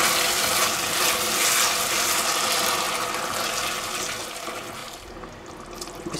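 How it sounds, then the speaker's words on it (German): Water runs and splashes steadily into a cooking pot of goose breast, vegetables and chicken broth for several seconds, a full gushing pour that thins out toward the end. "Ein bisschen Wasser, ein Schluck Wasser noch."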